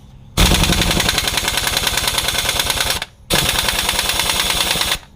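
An Earthquake impact wrench hammers loudly and close on stuck bolts in two rapid, rattling bursts of about three and two seconds, separated by a brief pause.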